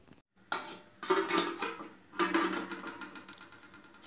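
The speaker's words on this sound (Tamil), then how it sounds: "இது மாதிரி ஒரு இட்லி தட்டில் கொஞ்சம் எண்ணெயை தடவி நம்ம வந்து ஸ்டீமரில் வச்சுடலாம்." A metal idli plate, greased with oil, is set into a steamer, producing a few clattering metallic clanks and scrapes close by, spaced apart with brief pauses.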